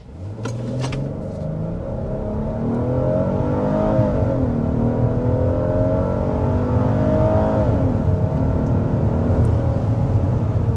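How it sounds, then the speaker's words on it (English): A 2026 Hyundai Palisade accelerates hard to 60 mph, its engine note climbing steadily in pitch, dropping briefly at a gear change, then rising again as a loud, continuous drone heard from inside the cabin. "there's our acceleration to 60 miles per hour"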